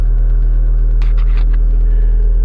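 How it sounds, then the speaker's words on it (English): The brake vacuum pump in a DIY electric car runs with a loud, steady low droning hum and rumble, with a few brief higher whirring bursts partway through. "we're going to hear the pump start up here at first for that brake system"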